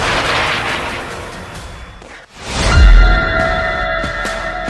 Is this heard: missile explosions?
yes